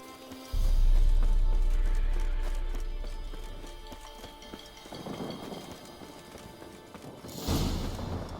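Hooves of Roach, a horse in The Witcher 3: Wild Hunt, clip-clop loudly in a rapid steady rhythm against a rumbling game soundscape, fading slightly before a swell near the end.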